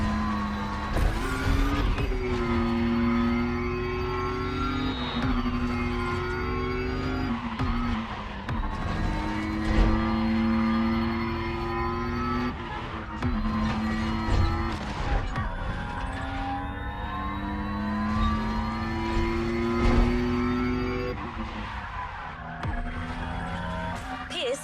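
A KTM 450 off-road motorbike engine in The Crew Motorfest video game revs and shifts up and down steadily, with repeated rising whines and occasional tire skids. No one speaks.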